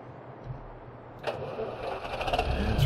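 A tractor engine in Farming Simulator 17 cranks and catches after a second of quiet, then settles into a steady, building mid-pitched run that grows slightly louder toward the end.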